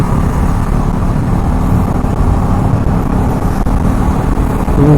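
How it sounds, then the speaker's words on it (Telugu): Steady road traffic on the way to Rajahmundry fills the whole stretch, a continuous broad rumble of passing cars and heavier vehicles heard from inside or beside a moving vehicle. "ఇక్కడ నుంచి కూడా ట్రాఫిక్ అయితే ఉంటుంది"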